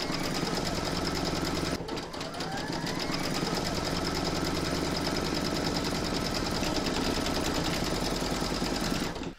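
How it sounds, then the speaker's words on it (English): An embroidery sewing machine stitches a courthouse steps log cabin quilt block coaster in the hoop, giving a loud, close, continuous rapid needle chatter that pauses briefly near the start before resuming. "Pop it into your machine and stitch round number 11 to secure it down."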